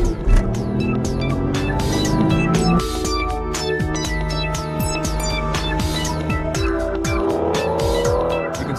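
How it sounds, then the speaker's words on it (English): An Aston Martin DBS with a 5.9-liter V12 revs hard and accelerates loudly up close, the engine note climbing through gear changes while the tires squeal and slip. "is the bark of that V12 engine when it roars to life"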